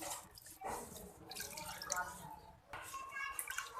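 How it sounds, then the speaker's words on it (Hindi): Water is poured into a pot of beef paya, a splashing gush close to the microphone that breaks off briefly and then resumes, with someone talking over it. "अब मैं इसमें वाटर डाल देती हूँ।"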